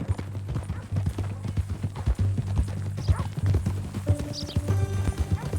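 Horse hooves clip-clop in a steady rhythm at close range in Red Dead Redemption 2, with game music and faint background sounds underneath.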